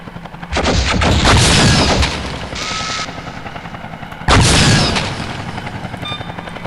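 Enemy gunfire from the video game Gunman Chronicles, dense loud bursts of shots and booms in two heavy volleys with a brief lull between, no talking.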